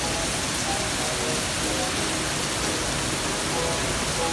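Steady rain falling during the rainy season on Yakushima, a dense continuous hiss of drops on surfaces, loud and unbroken with no voices.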